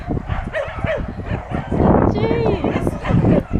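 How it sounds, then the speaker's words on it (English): Dogs on a sandy Australian beach yipping, whimpering and giving short barks close by, several bursts over a few seconds, with people talking over them. "There are dogs everywhere!"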